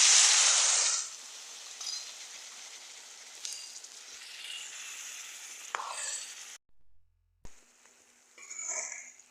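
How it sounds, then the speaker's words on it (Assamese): Whole spices (cumin, cloves, cinnamon, cardamom) frying in oil over a slow flame for a village-style goat curry: a loud hiss opening, then a soft steady sizzle with occasional stirring scrapes and a brief silent gap. "মছলাখিনি ভালকৈ ভাজ খোৱালৈকে, তেল বিৰিঙি নোহোৱালৈকে এনেকৈ ভাজি থাকিম"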